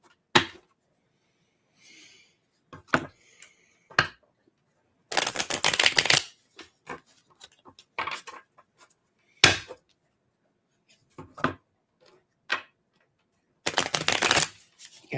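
Playing cards being shuffled in quick bursts, crisp riffling snaps with pauses between, close by and fairly quiet, with no talking.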